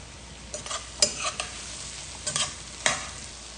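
Mushrooms frying in olive oil in a pan while being stirred, a soft steady sizzle broken by several scraping, clattering stirs with a utensil, close and fairly quiet with no talk.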